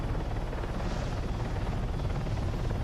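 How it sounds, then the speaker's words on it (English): A helicopter in the Arma 3 video game flies with a steady, dense rotor and turbine roar that stays loud and constant throughout, with no talking. "Don't try to fly too low or get too fancy until you get comfortable with the helicopter that you're flying."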